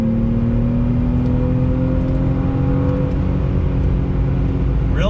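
A 1997 BMW E36 M3 engine drones loudly and steadily from inside the cabin, its pitch climbing slowly as the revs build under throttle through the gears.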